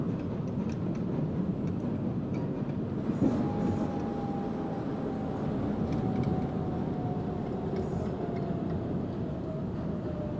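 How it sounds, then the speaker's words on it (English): A New York subway 6 local train runs toward Manhattan with a continuous loud rumble and clatter of wheels on track, and a thin metallic squeal rises partway through and drags on. "Manhattan-bound 6 local train."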